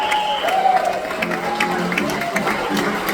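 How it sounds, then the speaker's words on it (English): A live audience gives a guest standing up a round of applause, a steady wash of clapping with a few cheers mixed in, moderately distant and sustained throughout. "give Eric a nice round of applause"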